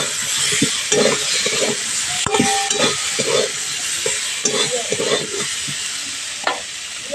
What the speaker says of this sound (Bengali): ডাঁটা আর আলু দিয়ে মশলার সঙ্গে একটু কষিয়ে নেব